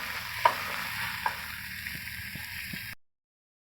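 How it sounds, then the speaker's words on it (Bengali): Onion and garlic frying with dried fish in a pan give a steady, close sizzle for about three seconds before it cuts to silence. "ভালো মতো পেঁয়াজ রসুন ভেজে নেব।"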